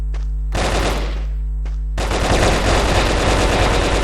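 Automatic gunfire in the video game BrickForce, a short burst followed by a sustained rapid stream of loud, close shots with no talk.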